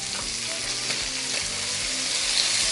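Chicken breasts frying in a hot pan right after being flipped, a dense, even sizzle held throughout at moderate loudness, with no voices.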